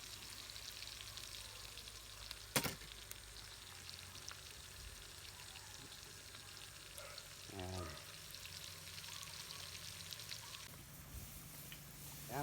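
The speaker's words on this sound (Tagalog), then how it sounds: "Hintay lang natin mag brown yung bawang tsaka sibuyas." Garlic and onion fry in a pan for caldereta with a steady, quiet sizzle that runs throughout, broken by an occasional stir and a brief clink, with no talking over it.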